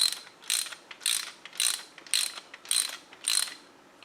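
A hand ratchet tightens nuts on a KFI mount kit for a Harbor Freight Badlands 2500 front winch, giving about seven evenly spaced bursts of close metallic clicking with no speech.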